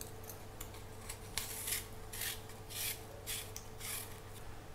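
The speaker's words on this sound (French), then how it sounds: "j'épluche une pomme plus toutes les petites parures de la première" Repeated short scraping, rasping strokes of a peeler against fruit, close up, coming in an irregular rhythm with brief pauses between them.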